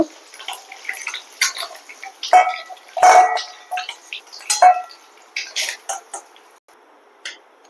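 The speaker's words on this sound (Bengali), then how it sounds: "গ্যাসের ফ্লেমটা কম রেখে এবার আমি সবকটা ডিমকে ভেজে নেব।" Eggs frying in hot oil in a pan over a low gas flame, with an uneven stream of pops, ticks and crackles close by, rising and falling in bursts.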